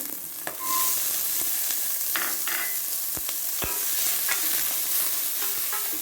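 Small onions sizzling in oil over low heat, a steady close frying hiss broken by the sharp clicks and scrapes of a utensil stirring against the pan, with no voices.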